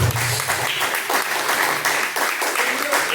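Church congregation claps in praise during a live worship service, a loud continuous rattle of many hands lasting a few seconds.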